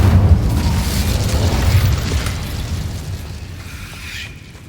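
A blazing Incendio fire spell erupts in a Harry Potter video game, cast at a deadly giant spider: a loud, deep rumbling whoosh-boom that roars steadily for several seconds before slowly fading.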